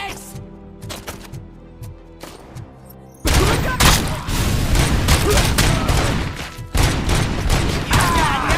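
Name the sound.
gunfire in Robocop film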